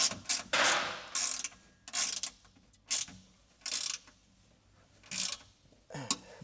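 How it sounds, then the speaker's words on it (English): Ratchet spanner tightening 10 mm bolts while installing low-profile drawers in a Toyota, short bursts of rapid clicking pawl ratcheting separated by pauses, close and fairly quiet with no talk. "I got a ratchet spanner, nice and easy."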